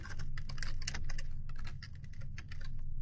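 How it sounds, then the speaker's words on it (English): Rapid clattering keystrokes on a computer keyboard as a PowerShell command is typed, close and continuous for a few seconds with no voices. "So we're going to type remove SP solution"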